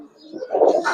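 Giribaz pigeons cooing close by, a single short throaty coo that rises and swells near the end, with no talking.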